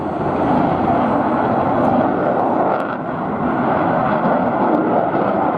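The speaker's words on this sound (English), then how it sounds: "there are four planes moving there as the aircraft made that slow speed run" A military jet, likely a Gripen fighter, roars past at low speed during an air show, a loud sustained broadband engine rumble that fills the whole stretch without a break and with no talk over it.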